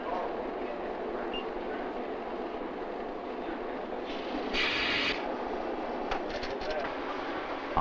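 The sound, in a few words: high-speed check sorter reader machine running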